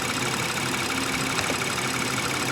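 A Honda 3.5L Earth Dream engine idling with a high-pressure fuel pump fault, a steady close rumble with a constant ticking whir layered on top, no talk.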